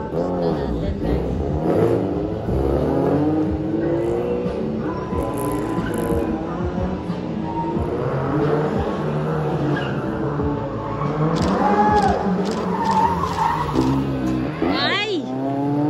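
A Honda Civic and a Honda City run at an autocross charity event, their engines droning and tires squealing through continuous loud car noise while excited spectators shout and cheer over it.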